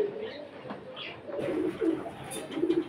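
Birds kept on a backyard poultry farm call and coo softly, with a few low, rounded coos and light chirps rising over quiet background noise.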